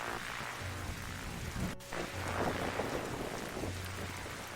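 Steady heavy rain with a sharp thunder crack near the middle, the storm ambience of the game The Darkside Detective, continuous and fairly loud with no voices.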